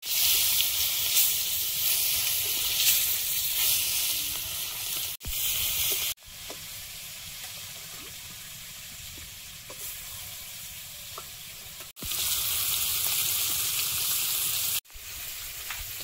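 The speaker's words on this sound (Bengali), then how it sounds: "মাছ ভেজে নেব।" Farmed bhangal fish fry in a wok over a clay stove, a loud continuous sizzle that drops and returns in sections, with no voices.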